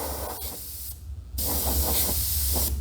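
Steady airbrush spray with the air left on, a continuous loud hiss that dips briefly in the middle and then resumes at full strength.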